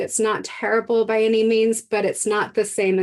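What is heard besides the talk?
No everyday noises stand out.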